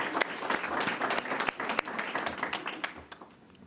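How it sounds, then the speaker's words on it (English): Audience at a school board meeting claps for school counselors, a dense, steady burst of applause that fades slightly toward the end. "Let's give them a big clap."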